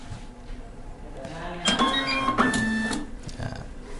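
A Kassen E460 label printer runs through calibration with a mechanical whir, clicks and short electronic beeps, the busiest stretch in the middle, while a person speaks faintly nearby.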